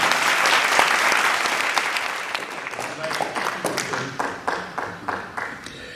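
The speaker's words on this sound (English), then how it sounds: "Round of applause." An audience at a conservative political event applauds to welcome a Florida congressional candidate, starting as a loud, dense burst and thinning into scattered, distinct claps toward the end, with some voices underneath.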